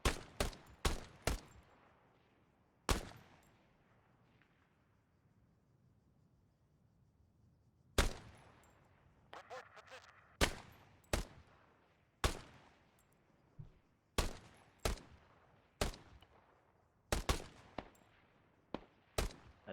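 Gunfire in ARMA 3 against enemies in a wrecked industrial shed: a burst of sharp shots, then a quiet gap, then many loud, well-spaced single shots with bursts among them, near and alone with no talk.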